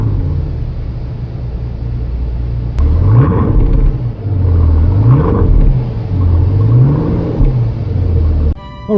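A Mercedes-Benz Maybach S600 V12 drives along, a low rumble swelling through three smooth acceleration surges and easing back between them, heard from inside the car.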